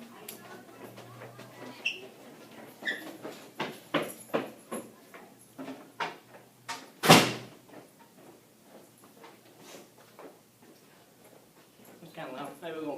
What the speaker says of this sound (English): Let me go shut this door.